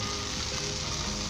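About two tablespoons of butter sizzling in a hot pan before a spring onion omelette goes in, a dense steady hiss heard close and alone for a moment.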